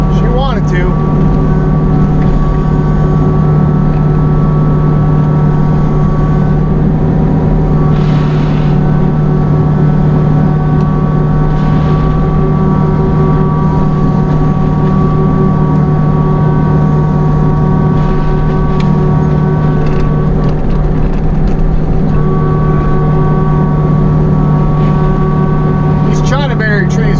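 A heavy mulcher machine grinds steadily through trees while clearing a neglected retention pond and ditch, its diesel engine droning loud and constant for the whole stretch, with occasional cracks and thumps as wood is chewed.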